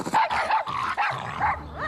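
A cartoon dog barks in a rapid series of short yips and woofs, close and clear, with a whimpering edge between barks and no talk.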